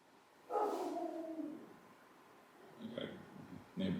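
A neighbor's dog barks and yelps in a short burst nearby, followed after a pause by fainter, scattered yips, with a person speaking softly between them.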